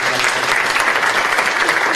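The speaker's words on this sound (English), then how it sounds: "give a round of applause" Audience applause at a company power training event, a dense, loud, steady wash of clapping from a crowd that fills the whole stretch without pause.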